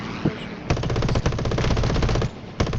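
Aircraft machine guns in War Thunder fire in rapid, loud bursts, one continuous stream of shots followed by a short break and a final burst.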